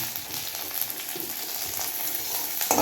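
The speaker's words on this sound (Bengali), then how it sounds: "তেল দিলাম, পেঁয়াজ দিলাম।" Onions fry in oil in a wok for a home chicken dish, giving a continuous close sizzle and crackle, with a sharper clatter near the end.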